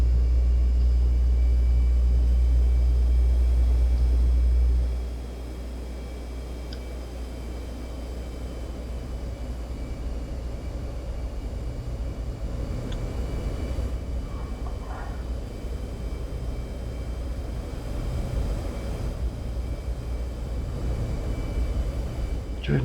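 An F-15C jet taxiing in the DCS flight simulator video game, with a loud low engine rumble that drops after a few seconds and settles into a steady whine and hum.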